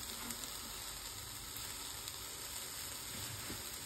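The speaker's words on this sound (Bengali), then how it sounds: "তো আমি ভাজি করব।" Home-grown garden vegetables fry in a pan with a continuous, even sizzle and faint crackle, steady and close throughout with no voices.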